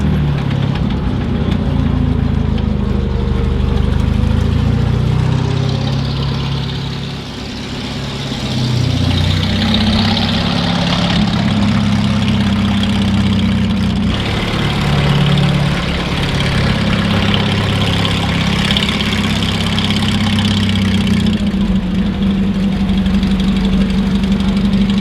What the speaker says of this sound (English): Sweet sound of your 9-cylinder radial engine.